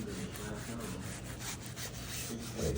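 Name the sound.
scrubbing rust stain with a black scrub pad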